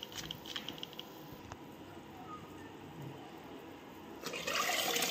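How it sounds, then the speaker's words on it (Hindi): Washed rice tipped into a cooking pot for pea (vatana) khichdi gives steady watery splashing and rustling, growing louder and fuller in the final second, with no talking. "अब इसमें चावल धोकर डाल देंगे।"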